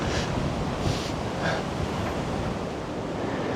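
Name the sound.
wind in a rooftop garden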